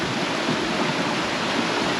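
Water rushes through rocky crevices in a national park near Uruapan, Michoacán, a dense, steady, close roar of flowing water with no pauses and no talk.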